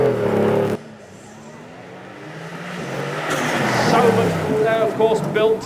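A Mercedes SLS sports car pulls away at a supercar show, its engine note rising as it drives off over steady crowd chatter and nearby voices.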